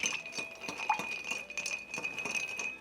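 Ice clinking against glass as a cocktail is stirred, quick rhythmic light taps and rattles, faint and close, with no talking.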